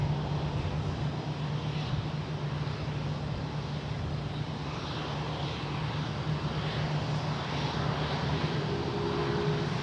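A jet airliner at San Jose International Airport, a steady broadband engine roar with a low droning hum that holds evenly throughout, moderately distant and continuous with no talk.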